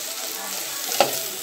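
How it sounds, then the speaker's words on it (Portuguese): Okra fries in a pan with sausage, a close, steady sizzling hiss with one brief clink of a utensil near the end. "Aqui é o quiabo. Vou esperar ele fritar bem, fritinho."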